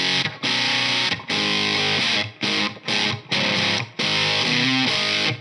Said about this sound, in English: Almost like a distortion pedal.